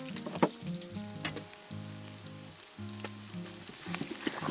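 Ginger, scallion and garlic frying in hot soybean oil while preparing a lamb spine hotpot: a soft, steady sizzle with scattered crackles, fairly quiet, over a low sustained tonal background.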